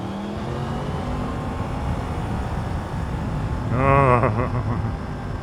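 A Yamaha MT-10 motorcycle engine drones steadily while riding into town on a road, then revs up with rising pitch near the end before settling back, heard close and fairly loud over wind.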